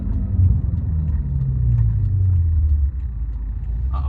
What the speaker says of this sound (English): I hope you can hear those downshifts.